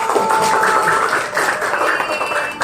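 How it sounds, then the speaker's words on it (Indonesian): Students in a classroom applaud a classmate with a short burst of steady clapping, while an adult voice talks over it. "tepuk tangan buat anakku."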